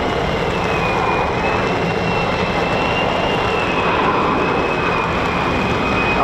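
A US Air Force F-15 or F-35 fighter jet takes off at RAF Lakenheath, a loud, steady jet roar with a thin whining tone on top that fills the air at close range, with no one talking.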